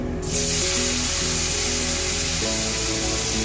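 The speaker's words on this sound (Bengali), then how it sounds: "কালো জিরে ফোড়ন দিলাম এবং ভাঙা ধনে জিরে তেলের মধ্যে একটু দিয়ে দিলাম।" Nigella seeds and crushed coriander and cumin hit hot oil with a sudden, loud, continuous sizzle, with a steady tonal melody running faintly beneath.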